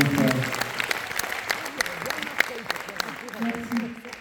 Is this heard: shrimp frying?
no